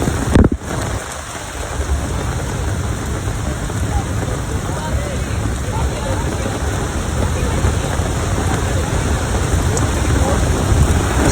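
Heavy rain at Athirappilly waterfalls in Thrissur, Kerala, a loud, unbroken downpour with the deep rumble of falling water, one sharp knock near the start and faint crowd murmur beneath.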